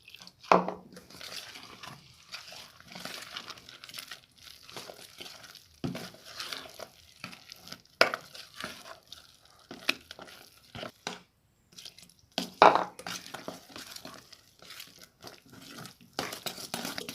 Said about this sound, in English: I don't have a mixer, so I exercise by mixing thoroughly to ensure that everything is integrated